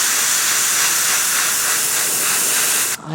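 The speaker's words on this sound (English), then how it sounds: "the sound you hear in the background, that is my compressor." Loud, steady broadband hiss of an air compressor running for an airbrush during miniature painting, continuous and close, then dropping off abruptly at the end.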